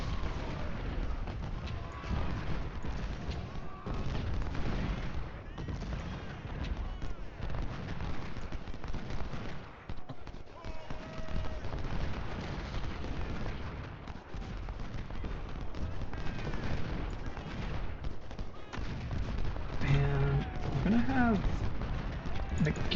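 Battle sounds from the Civil War strategy game Ultimate General Civil War at Saunders Farm: rolling, distant musket and artillery fire rumbling almost continuously, fairly faint, with someone talking over it.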